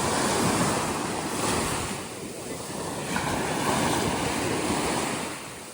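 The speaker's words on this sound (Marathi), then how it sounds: "समुद्र बघा कसा आहे" Sea surf washing onto the shore in steady broad swells, with wind buffeting the microphone throughout; loud and continuous, without a break.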